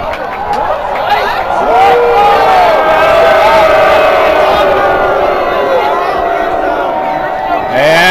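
A crowd at a quidditch match against Texas, a loud, sustained roar of voices and shouts with a commentator talking over the top.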